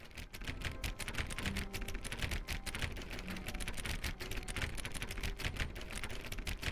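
Rapid, continuous clicking of a computer mouse while repeatedly clicking a door in a Stanley Parable game, a dense steady stream of small sharp clicks lasting throughout, with faint game ambience beneath.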